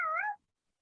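A cat gives a single short, clear meow close by, rising then falling, followed by silence.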